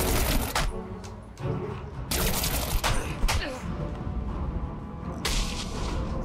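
Gunfire in Batman: Arkham Origins comes as a few sharp, loud bursts and cracks separated by quieter stretches, with game ambience beneath.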